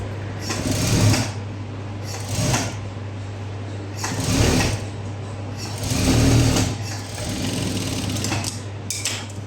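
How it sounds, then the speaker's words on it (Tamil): A sewing machine stitches a straight quarter-inch seam on a blouse in several bursts of rapid whirring, loud and close, with brief pauses between runs and no talking. "இப்போ 1/4 இன்ச்சு கைடு அளவு ஒரு ஸ்ட்ரைட்டாக ஒரு ஸ்டிச் போட்டுனே வந்துடணும்"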